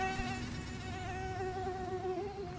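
A mosquito drones in a steady, high-pitched whine throughout, close and continuous, with a slight wavering in pitch and no other sounds.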